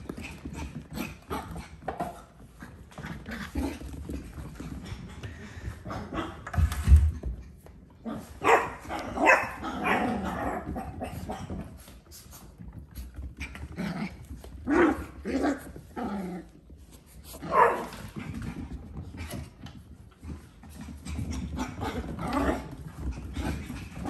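Doodle puppies bark, growl and yip in scattered bursts in a kitchen, with scrambling paws clattering on a hard floor throughout.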